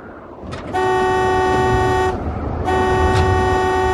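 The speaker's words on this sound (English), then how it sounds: "Here, you watch, let me honk." A car horn blares twice in long, loud, steady honks with a short gap between them, over a low rumble of traffic.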